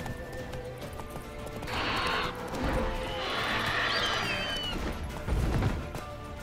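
Roach, a horse in The Witcher 3, moving with clip-clop hoof sounds amid game ambience, with bursts of broadband noise and a louder thump near the end.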